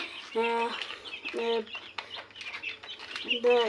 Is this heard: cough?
no